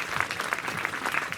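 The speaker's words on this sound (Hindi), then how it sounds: "मेरा मन है कि एक बार आप लोगों की तालियां आ जाए" Dense, continuous applause from the audience at a Hindi humour poetry gathering, a moderately quiet wash of many hands clapping together without pause.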